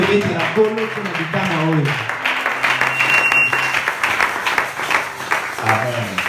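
A church congregation breaks into applause, a broad continuous wash of clapping and cheering voices that rises after a brief spoken call and carries on under lingering voices.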